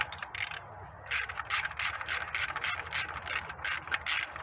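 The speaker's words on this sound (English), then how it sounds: "we have this fastener that we're just gonna remove to make things easier for ourselves" A ratchet removes a fastener from the valve cover of a Toyota 2.4-liter 2AZ-FE engine, producing rapid, rhythmic, close-up clicking strokes that repeat steadily.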